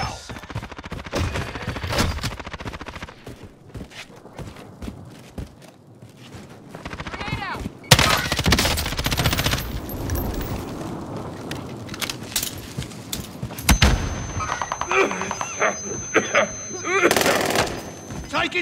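Gunfire in the battle royale video game Warzone Resurgence, with repeated shots and bursts that grow louder and denser in the second half, mixed with game effects and brief voice lines.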